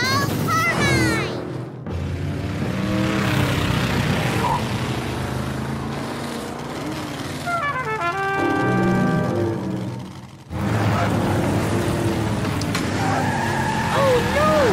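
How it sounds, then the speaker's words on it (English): Cartoon race cars in a children's animated race zoom past with engine whines and tire skids, mixed with music and excited character voices throughout, briefly dropping out near the middle before resuming loudly. "I can see the Big Ben race car"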